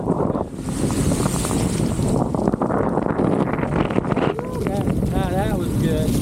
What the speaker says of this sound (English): I go through some big puddles